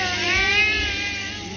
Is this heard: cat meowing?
yes